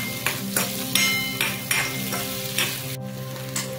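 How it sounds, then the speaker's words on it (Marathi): Chopped onion fries in hot oil in a pan for rajma masala, with a steady sizzle broken by regular scraping strokes of a stirring spoon, several distinct knocks against the pan. "तेल गरम झालं की त्यात कांदा टाकून घेऊया। कांदा मस्त लालसर फ्राय करून घ्यायचा आहे आपल्याला"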